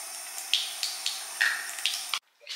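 Water runs from a tap while hands are wetted to mix a powdered clay face mask, a steady hiss with splashy bursts as the hands move, cut off abruptly near the end.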